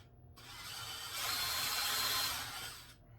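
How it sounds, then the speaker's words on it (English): Power drill fitted with a right angle attachment pre-drilling holes into a wooden farmhouse console tabletop, a steady whirring grind that rises in intensity midway and then stops, close and without talk. "got my holes pre-drilled"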